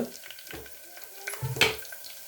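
Tomatoes frying in oil for a tomato egg curry, a soft sizzle broken by a few stirring scrapes, with a louder clatter and hiss near the end.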